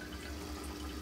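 Water in an aquarium flowing back after the pump is switched off, a faint, steady trickling rush with no talk.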